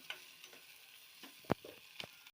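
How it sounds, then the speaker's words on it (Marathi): Whole spices, cinnamon and peppercorns, are sautéed in a pan: a faint soft sizzle with a few sharp ticks and one clear clack of a utensil against the pan. "मसाला छान परतलेला आहे"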